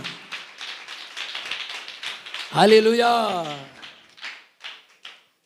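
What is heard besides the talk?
congregation clapping hands to glorify the Lord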